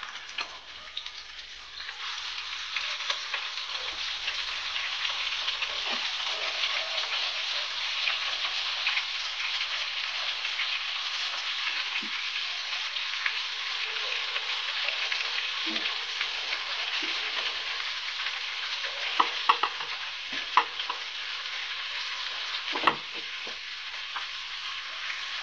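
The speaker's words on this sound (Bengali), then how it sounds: "এবার বাকি মাছগুলো ভেজে নেব" Hilsa fish pieces frying in a pan of oil make an even, rain-like crackling sizzle that holds steady for about twenty-five seconds, close by and uninterrupted, with occasional small pops.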